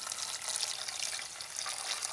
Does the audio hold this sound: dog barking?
no